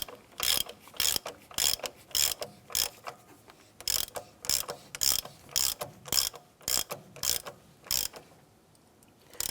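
A ratchet and socket tighten the heater hose connector on a Chevrolet S-10 (1994-2004) in quick, close bursts of sharp metallic clicking that repeat in a steady rhythm, then pause briefly near the end.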